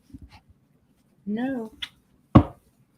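A small dog gives a short, high, wavering whimper, with a few soft snuffles before and a sharp bark-like yelp after, close by.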